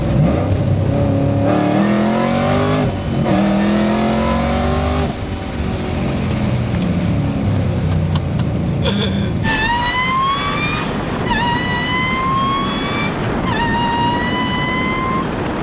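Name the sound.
2008 Shelby GT500 accelerating hard on highway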